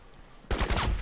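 A short burst of rapid gunfire in the shooter game Crysis erupts suddenly after a quiet moment, loud, close and rattling.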